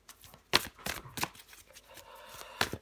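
Tarot cards being shuffled and drawn, quick riffling and snapping flicks at irregular intervals, close and fairly quiet, with several sharp card slaps standing out.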